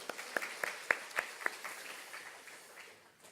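Faint applause from a church congregation at a Sunday evening service, a burst of scattered claps that thins out and fades away over a few seconds.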